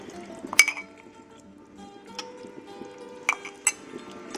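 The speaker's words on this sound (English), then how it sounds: "You don't dig your spoon in, you just hold it right on the side like that, and then the grease will go into the spoon" Spoon skimming grease off simmering meatball and sausage spaghetti sauce, heard as a few light metallic clinks against the pot at irregular intervals over a soft background hum.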